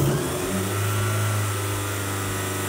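A Mitsubishi Eclipse GSX engine with 240,000 miles, a fresh head gasket and a high idle fault runs at a steady, elevated idle, a constant close engine drone with no talk over it.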